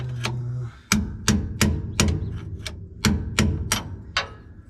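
Hammer blows on a stuck brake drum during a brake repair, about ten sharp metallic strikes at an uneven steady pace, loud and close, with no talk.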